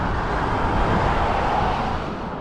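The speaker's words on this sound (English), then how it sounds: "Hope you can hear me for all these cars." Steady, loud road traffic rushes by near Ribblehead, a broad continuous roar of passing cars that swells slightly and then eases toward the end, with no voices over it.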